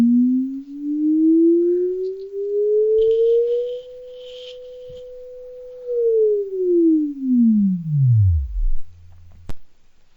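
Pure synthesized sine tone generated in Haskell, gliding steadily upward for about four seconds, holding one steady pitch for two, then sweeping down to nothing, ending with a brief click; loud and alone.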